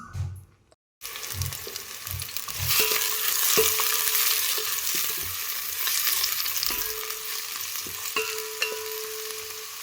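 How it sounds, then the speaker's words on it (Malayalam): Two sliced onions dropped into hot oil, a few knocks and clatters first, then a loud continuous sizzle with intermittent stirring scrapes and spoon taps, close and without speech. "ഞാൻ 2 സവാള അരിഞ്ഞു വച്ചിട്ടുണ്ട്. അതിപ്പോൾ ഈ ചൂടായ എണ്ണയിലേക്ക് ഒന്ന് ഇട്ട് കൊടുക്കാൻ പോവാണ്."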